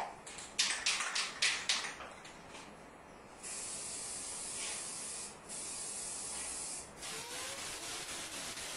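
Spray gun laying a fog coat of paint on a 1959 Chevy pickup hood: a few quick hissing bursts at first, then long steady sprays of close, sharp hiss with short pauses between passes.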